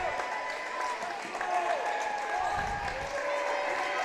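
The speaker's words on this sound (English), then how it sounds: "And the claps have begun." A basketball game crowd claps steadily in a gym at the end of a game, the applause sustained and moderately loud throughout under ongoing noise.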